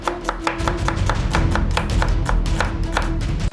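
Half an onion being chopped on a board with a knife, rapid steady taps close up, alone with no voices.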